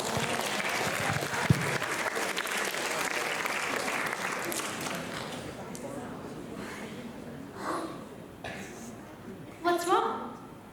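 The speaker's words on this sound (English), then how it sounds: "Give her a big round of applause." A school drama showcase audience applauds loudly and steadily for several seconds, then the clapping thins out and fades, leaving a few quieter sounds near the end.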